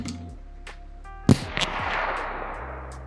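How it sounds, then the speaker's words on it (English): Single sharp crack of a .22LR rifle firing Herters ammunition, one loud close report standing out over steady low background noise with no talk. "5 rounds of Herders."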